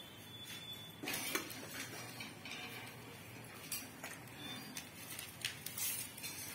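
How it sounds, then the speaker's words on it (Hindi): Bundi bhujia being stirred in a bowl with roasted cumin, giving scattered light clinks and scraping taps of a spoon against the bowl, soft and close, with no talking. "और इन्हें अच्छे से मिक्स कर लेंगे।"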